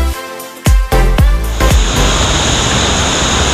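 A waterfall near Armenia, Colombia roars loudly and continuously, its broad rushing noise swelling in after a few sharp knocks and filling the scene at close range.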